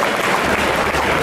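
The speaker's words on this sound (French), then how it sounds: "je vous demande de l'accueillir, d'applaudir bien fort" Loud, dense audience applause greets a cosplayer at an indoor cosplay contest, a continuous wash of many hands with no gaps.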